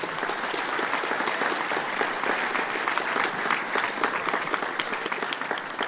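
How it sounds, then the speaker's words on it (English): Sustained applause from a large audience at a trade expo product showcase, steady dense clapping throughout with no voices standing out. "can I have one last big round of applause for all of our presenters today?"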